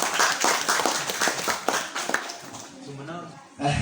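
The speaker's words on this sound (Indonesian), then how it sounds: "Tepuk tangan untuk sponsor dulu." An audience at a free iftar break-fast talk claps for the event's sponsor, a burst of mixed clapping that fades after about two seconds, with a voice speaking over and after it.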